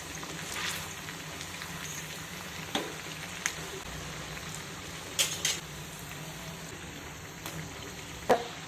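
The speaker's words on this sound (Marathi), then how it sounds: "इडली वडी आपण छोटा मोठा गॅस करून खरपूस अशा इडली वड्या तळून घेऊ" Shepu (dill) idli pieces shallow-frying in oil on the stove, a continuous crackling sizzle with a few sharp pops and spatula clinks scattered through, close and moderately quiet, no voices.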